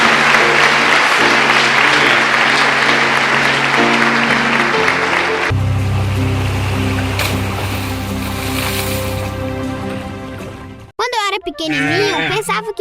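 A church congregation clapping in praise, a dense wash of hands over sustained music with a voice, the music shifting midway before the clapping fades and a speaking voice cuts in at the end.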